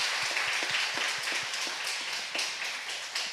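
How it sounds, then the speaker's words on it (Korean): A church congregation applauding during a Korean Sunday service, a dense, steady patter of many hands clapping at a fairly soft, distant level with a few sharper taps, and no talking over it. "구역장님들에게 우리 박수 한번 보내주십시오"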